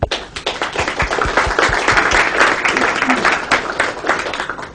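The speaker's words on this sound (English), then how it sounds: "let's give a big round of applause" An audience at a talk on Portland's cycle tracks and buffered bike lanes gives the speakers a big round of applause, dense clapping from many people that starts with a few sharp claps and swells into a steady, close roar.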